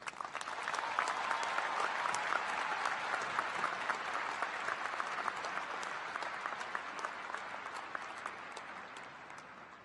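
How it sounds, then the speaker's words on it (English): An audience at a ceremony bursts into sustained applause, a dense, steady wash of clapping heard at moderate distance that fades slightly toward the end. "Please give a resounding applause to Professor Njabulo Ndebele."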